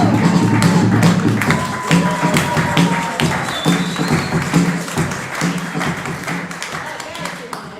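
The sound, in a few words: audience applause for the cast of an improv show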